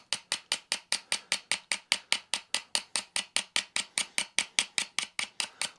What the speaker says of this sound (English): All I'm literally doing is just scraping it.